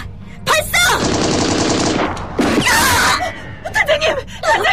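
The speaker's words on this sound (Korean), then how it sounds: "저기다! 발사!" Gunfire in a drama battle scene, with a rapid burst of automatic fire followed by more shots, loud and close, mixed with gasps, groans and shouting voices.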